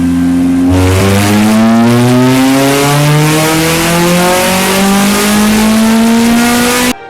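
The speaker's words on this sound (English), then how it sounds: "Pushing your car beyond its red line can destroy it fast." A car engine revving hard and climbing steadily past its red line, with one quick shift early on, then a continuous loud rising howl that cuts off abruptly at the end.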